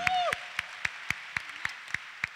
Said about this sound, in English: Why don't you clap for them one more time?